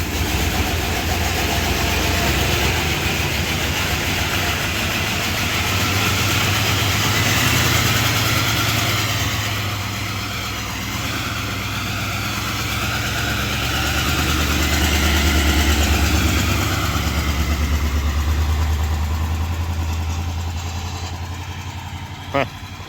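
A 1978 Chrysler Newport that has sat for a long time runs rough with lifter clatter, a steady low engine rumble rising and falling over about twenty seconds, with voices talking over it.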